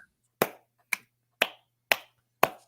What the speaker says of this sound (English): You don't need to clap, Phil.